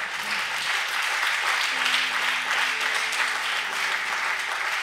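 A church congregation applauds in steady, continuous clapping that fills the space, with a faint low hum underneath and no speech over it.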